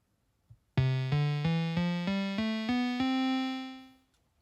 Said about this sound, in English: we're going to start with an initial patch on the MicroFreak,